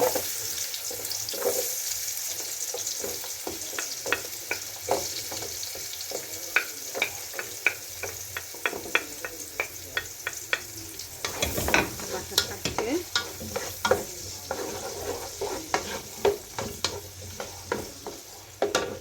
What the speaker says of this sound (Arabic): هسه راح أخلي أول شي راح أخلي البصل